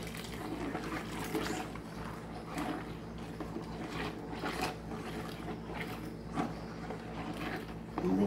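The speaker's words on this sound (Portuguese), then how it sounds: "Aqui eu vou pôr 1 litro de água em temperatura ambiente." Room-temperature water, about one litre, poured into a container of powdered laundry soap for a homemade detergent batch, giving a steady splashing, gurgling stream that runs throughout without talk.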